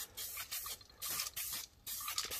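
Aerosol spray paint hissing onto chrome wheels in short bursts, several starts and stops of a close, bright spray with brief pauses between passes.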